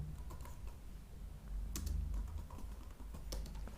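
Quiet, close typing of Python code on a computer keyboard, an irregular patter of soft key clicks with a few sharper taps and no speech.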